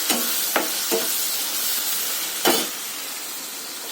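Tomato and spices fry in a pan with a constant, bright sizzle. Several sharp scraping bursts from stirring cut through it, with the last and loudest near the end, and nobody speaks.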